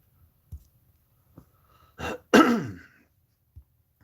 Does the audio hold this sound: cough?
yes